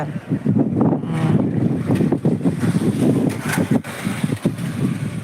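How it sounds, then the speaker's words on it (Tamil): Strong wind blows hard outdoors, a loud buffeting rumble against the microphone with a rushing, wave-like roar underneath. "சூப்பராக காத்தடிக்குதா காற்று சவுண்டு கேட்குமே காற்று சவுண்டு கேட்குதா"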